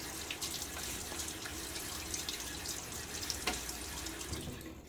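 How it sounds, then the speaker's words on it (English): Cold water runs steadily from a tap into a sink and is splashed on a face during a wet shave, a constant close hiss with a few brief splashy spikes and no talking. "One more splash on my face."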